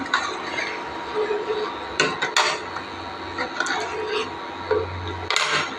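Salted rice with lemon and coriander being stirred in a pot, a spoon scraping and clinking against the metal in a few bursts, close and fairly loud over a steady low background hum.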